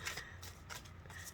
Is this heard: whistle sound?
no